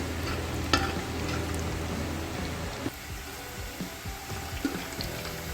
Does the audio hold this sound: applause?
no